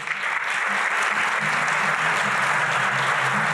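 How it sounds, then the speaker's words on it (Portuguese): An audience at a Brazilian literary festival applauds a newly introduced panelist, producing a dense, steady wash of clapping that fills the room without pause. "Aplausos para Tiago Coelho."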